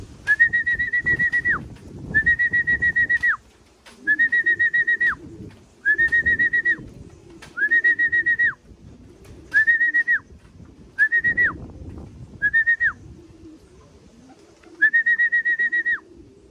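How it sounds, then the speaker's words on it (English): Racing pigeons at a Virginia Beach race finish give repeated steady whistling coos, about ten bursts in a row with brief gaps, close and clear over faint background rustle. "We got foreign birds here."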